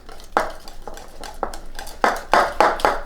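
Whisk beating a Keto Chow shake with collagen powder in a bowl, a series of loud, close scraping clinks at an uneven rhythm that speeds up toward the end.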